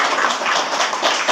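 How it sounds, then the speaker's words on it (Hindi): An audience bursts into brief, dense clapping for someone at a product presentation, close and continuous with no talk. "क्या बात, ताली बजाइए इनकी।"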